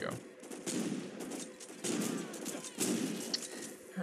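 Saints Row 2 video game gunfire, rapid bursts of automatic shots in three or four clustered volleys, loud and close, with a voice talking over parts of it.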